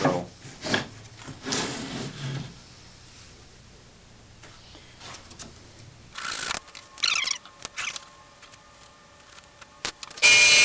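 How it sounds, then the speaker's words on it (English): A file rasps on wood edge banding on a mahogany oval mirror frame, in short scraping bursts separated by quiet pauses, close and moderately loud. "This is just edge banding I cut off of the bigger piece, so I'll have to file that off."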